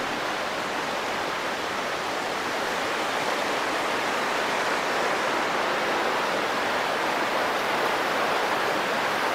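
Steady rushing flow of the Chor River at a campsite below a mountain range at dusk, a dense, even wash of water noise holding at constant loudness throughout with no voices.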